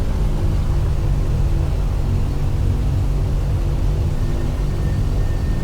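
Propeller reverse thrust on a PMDG DC-6 after landing in a flight simulator: a loud, steady, broadband engine roar with heavy low rumble, holding constant throughout with no voices.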